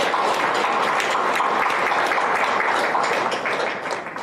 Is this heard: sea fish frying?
no